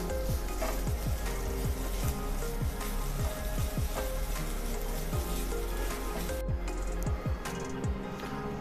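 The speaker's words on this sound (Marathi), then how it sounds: "ओला नारळ जो खवून घेतलेला आहे तो टाकून घेऊया आणि मिनिटभर परतवून घेऊया" Grated fresh coconut sautéing in hot ghee for steamed modak filling, a low sizzle under repeated wooden spatula scrapes and knocks against the pan, close and rhythmic, with no talking.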